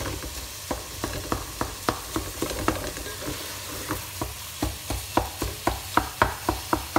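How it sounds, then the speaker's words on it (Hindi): Cauliflower and potato fry in a pan over a medium flame, a soft continuous sizzle punctuated by a regular run of spoon knocks and scrapes while stirring, close and alone without speech. "फाइव टू टेन मिनट्स के लिए बिल्कुल भूनेंगे और मीडियम फ्लेम पे इस तरह कर लेंगे"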